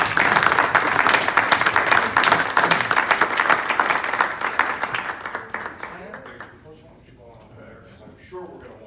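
Rotary club audience applauds an honoree at a perfect attendance recognition, a loud, dense round of clapping that fades out after about six seconds, leaving quiet room sound with some talk.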